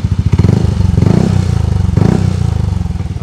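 A Yamaha NMax scooter fitted with a ProSpeed exhaust revs close by, its loud throbbing idle rising into two throttle blips that pull the engine note up before it settles back.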